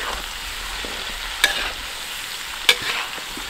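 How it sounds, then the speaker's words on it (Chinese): Chinese cured pork and sausage stir-fried in hot oil, with a steady crackling sizzle and two sharp clanks of the spatula against the wok. "油热了，把腊肉香肠倒进来， 多翻炒一下，把辣肉里头的油脂给它炒出来，把它炒香"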